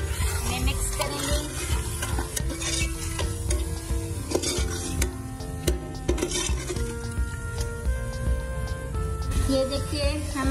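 Tomatoes with turmeric, red chilli powder and salt fry in a pan, stirred continuously with repeated scraping strokes over a constant close sizzle for about ten seconds.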